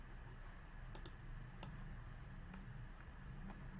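Keyboard typing of code on a computer, heard as a few sparse, quiet clicks and taps over a steady low hum, with no talking.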